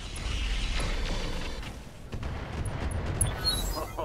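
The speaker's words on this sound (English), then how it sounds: "Firing all weapons." Mech weapons fire in the BattleTech game with the Roguetech mod, a rumbling series of heavy booms and mechanical clanks amid low game ambience, with a few sharper impacts toward the end.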